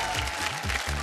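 Loud, dense applause from a studio audience welcoming the judges on a televised Bhojpuri reality show, continuous clapping with a low musical hum underneath.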